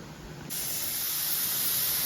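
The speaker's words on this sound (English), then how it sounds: "It wants a steady stream of steam for 10 minutes." A pressure cooker making big-batch chicken stock vents a steady, loud hiss of steam that jumps up abruptly and then holds constant with no talking.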